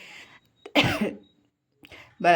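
A couple of short, rough coughs close to the microphone, separated by a pause, with brief bits of speech around them.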